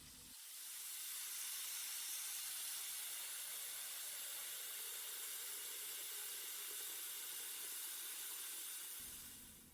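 Water sprays steadily onto hair during a salon shampoo rinse, a soft continuous hiss that runs almost the whole time.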